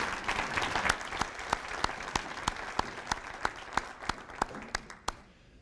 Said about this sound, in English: big round of applause for all of the former inductees